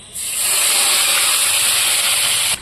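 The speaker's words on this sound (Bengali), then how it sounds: "তো তেল গরম হয়ে গেছে প্রথমে দিয়ে দেবো আমি পেঁয়াজ বাটা" Onion paste dropped into hot oil, a loud steady sizzling hiss that starts abruptly and holds evenly for over two seconds, close up with no talking.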